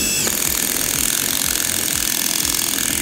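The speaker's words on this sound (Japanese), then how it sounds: "こちらの太さがだいたい 12mm の木工用ドリルで穴を開けていきたいと思います" A Makita TD173D impact driver bores into wood with a 12 mm wood drill bit at maximum mode, giving a loud, steady, rapid rattling whir that continues without a break.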